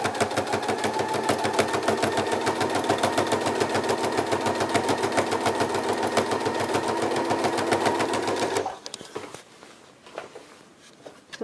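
A sewing machine runs steadily for about eight seconds, stitching a seam on a kachera with a fast, even mechanical rattle close by, then stops and leaves quieter handling noises.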